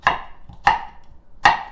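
A knife cuts a cucumber into long strips on a cutting board. Three crisp, separate chops land roughly two-thirds of a second apart, each a sharp knock with a short ring, with quiet between them.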